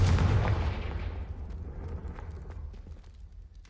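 Confringo blasting spell explodes in Hogwarts Legacy with a loud, close burst that rumbles and crackles, then trails off into a fading, debris-like decay over a few seconds.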